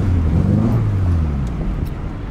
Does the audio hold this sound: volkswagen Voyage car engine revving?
yes